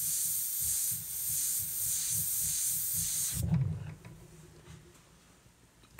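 An airbrush sprays paint in short strokes to lay fine hair lines of tiger fur, a steady bright hiss with a soft pulsing underneath that cuts off abruptly, leaving a quiet room.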